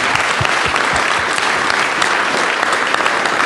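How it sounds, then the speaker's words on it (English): Loud, dense audience applause fills a pre-fight kickboxing press conference in Los Angeles, a continuous roar of many hands clapping close by with scattered sharper claps throughout. "So can you give them a nice round of applause, please?"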